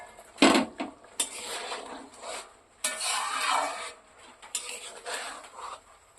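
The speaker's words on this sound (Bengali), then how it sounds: "ঢাকনাটা সরাই দেখবো।" A metal lid lifted off a cooking pot of potato and egg curry: several separate clanks and scraping rattles, close and fairly loud, with quieter gaps between them.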